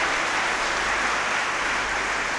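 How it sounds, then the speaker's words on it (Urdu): Congregation applauding during a Sunday Mass, a dense, loud, continuous roar of many hands filling a church, sustained without pause or speech. "Once again, let us clap."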